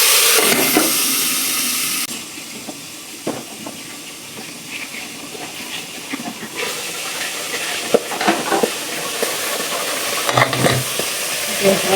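Cluster beans dropped wet into a pan of hot oil tempered with cumin and asafoetida sizzle and hiss loudly, with intermittent stirring scrapes and clatters close up over a continuous frying crackle.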